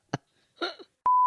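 A single steady phone notification beep sounds clearly and alone for about a quarter second, shortly after a brief cough-like noise and a short breathy throat sound.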